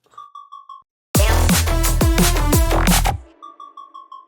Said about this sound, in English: The only other synths that I do have is, for example, like this falling pluck.